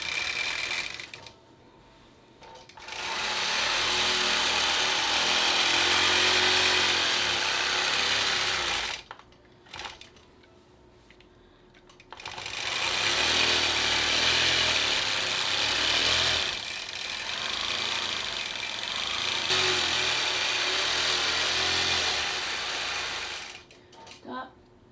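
A longarm quilting machine stitches a Lone Star quilt in rapid, whirring bursts, running for several seconds at a time with short quiet pauses between runs, heard up close.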